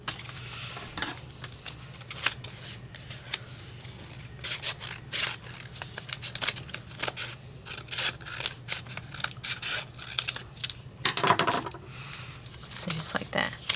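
Scissors snip through paper while trimming excess from a pop-up card, a run of quick, sharp, irregular cuts close by, some louder than others, with background rustling.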